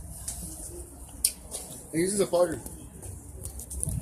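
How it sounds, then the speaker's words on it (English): A pet bird, likely a pigeon or dove, gives a short soft cooing call at home. Children talk around it and over it. "I have a bird."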